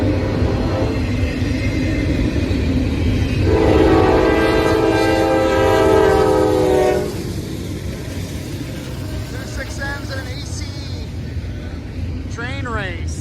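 Two Norfolk Southern intermodal freight trains race side by side on the main line, making a loud continuous rumble with a long air horn blast partway through, while people talk over it.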